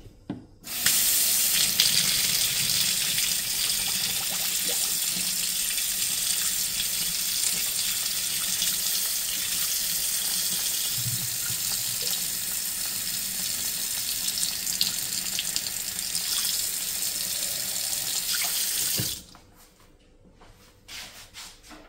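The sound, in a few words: hot tap water filling a bottle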